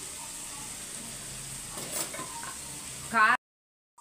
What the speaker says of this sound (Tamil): இப்போ இதை வந்து நல்லா மிக்ஸ் பண்ணிக்கலாம்.